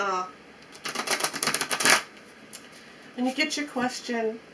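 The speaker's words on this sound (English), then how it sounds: "let's go ahead and shuffle this oracle deck here for you" An oracle card deck is riffled and shuffled in quick crisp bursts, with a person speaking afterward.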